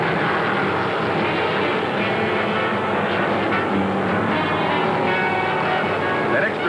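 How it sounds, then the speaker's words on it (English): A.J. Foyt's big Mercury stock car engine roars down the straights at a 1972 NASCAR Winston Cup race, a loud continuous engine drone with heavy crowd and track noise and an announcer's voice faintly underneath. "But AJ unleashes that big Mercury and runs away on the straights"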